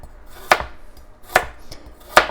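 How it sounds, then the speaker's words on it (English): A knife chopping carrots into sideways slices on a cutting board, three crisp, evenly spaced chops close up, with no voices. "I cut carrots into these kind of like sideways slices"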